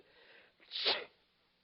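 A single sharp sneeze in a radio comedy, a quick inhale followed by a bright burst, close and fairly quiet, with nothing else around it.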